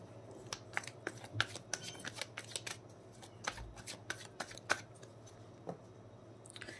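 Tarot cards being shuffled and drawn by hand, a quiet series of crisp riffles, flicks and slaps spaced irregularly, close and soft with no talking.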